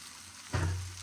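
Cubed new potatoes drop into hot oil, and a sudden loud sizzle bursts out and then fades slightly, heard close up and alone.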